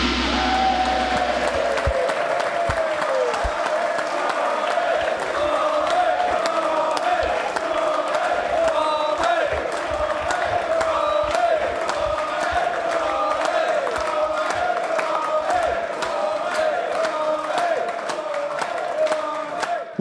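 A large live crowd at an end-of-season awards show cheers, whoops and applauds continuously for about twenty seconds, loud and sustained with rhythmic clapping throughout.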